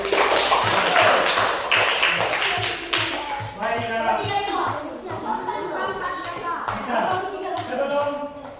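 A classroom of students claps together in a steady, rhythmic beat, continuing through the whole stretch while a voice and other voices talk over it.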